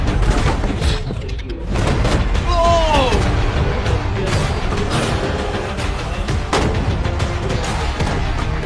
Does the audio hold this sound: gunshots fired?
yes